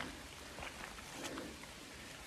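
Rain falls steadily in a forest as a soft, even hiss with faint patters of drops, quiet and continuous, with no voices.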